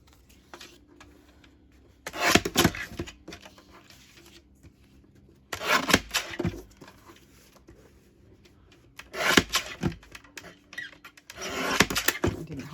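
Paper punch chomping through book page tags in three or four separate bursts of crunching and rubbing, each lasting about a second, with quiet handling sounds between them.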